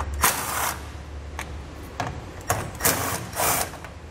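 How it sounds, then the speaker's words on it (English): A 10 mm socket on a ratchet backs out bracket bolts on a 2020 Toyota Tundra during a gooseneck hitch install, giving several short, close clicking bursts separated by pauses. "we're going to remove the two bolts here that hold this bracket onto the canister. We're again going to use our 10 millimeter socket."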